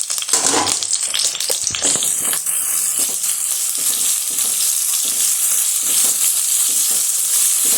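Chili, tomato and curry leaves sautéing in hot oil with onions for home-style liver varuval, a loud close sizzle and crackle running continuously with occasional stirring.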